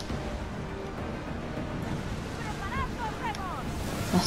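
Sea waves and wind wash steadily in a naval battle in the video game Assassin's Creed Odyssey, a constant broad surf noise with faint whistling tones rising over it near the end.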